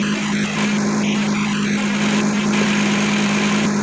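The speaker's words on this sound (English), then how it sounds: "The AC is running. Clutch is turning." The engine of a 2007 Kia Sedona idles with its newly installed AC compressor running. It gives a loud, steady drone with a strong low hum and a constant whirring, close by and unchanging throughout.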